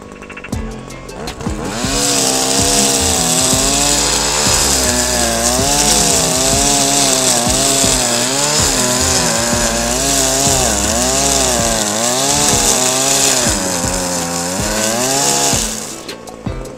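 A brush cutter with nylon cord runs at steady high revs for about fifteen seconds, its engine whine wavering slightly as it cuts, loud and close, with no talking.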